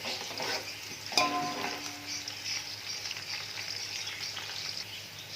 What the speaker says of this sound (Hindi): तो लाइट ब्राउन होने तक मैं प्याज को पकाऊंगी।